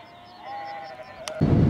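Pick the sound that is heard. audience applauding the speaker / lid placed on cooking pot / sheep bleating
sheep bleating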